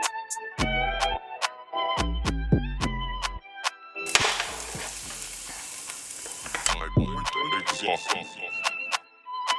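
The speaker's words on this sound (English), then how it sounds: "first thing I'm gonna put in here is onions" Onions sizzling in a pan for Mexican rice, a bright steady frying hiss alongside loud music with a rhythmic beat.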